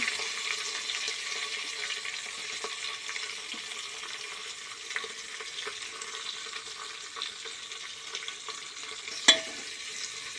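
Whole spices, cumin, bay leaf, green chillies and onions frying in hot oil in a pan for chicken pulao, with a low, continuous sizzle, faint stirring scrapes and one sharp knock near the end.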